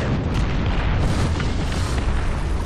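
A deep, heavy boom from a War Thunder ground-forces tank cannon rolls out as a sustained loud rumble with no speech over it.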